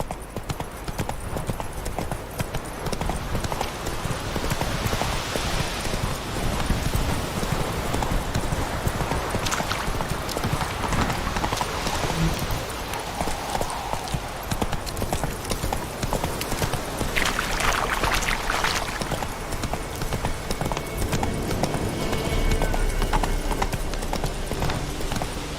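Horse hooves clip-clop in a steady, continuous rhythm while riding in The Witcher 3, loud and close for the whole stretch, with game ambience and no talking over it.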